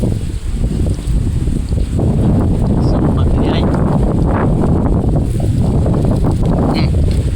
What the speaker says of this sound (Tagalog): Sukig hangin diri.